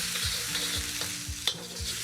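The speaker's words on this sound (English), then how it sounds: "I've cut the garlic nice and big so that it takes a little bit of cooking in the wok." Big-cut garlic stir-fries in a hot wok, an even crackling sizzle broken by rhythmic scraping strokes of a utensil about every quarter second, plus one sharper clink.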